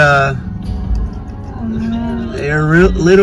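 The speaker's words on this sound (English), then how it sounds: "moving the cattle with horses and ATVs." Cattle being moved by riders on horses and ATVs near Antimony, Utah, give loud, drawn-out moos, with one long call and then several overlapping calls, close by and clear, while a person talks faintly underneath.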